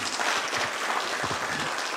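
Conference audience applauding a speaker at a future-of-work event, a dense steady wash of many hands clapping at moderate volume, filling the whole stretch without pause.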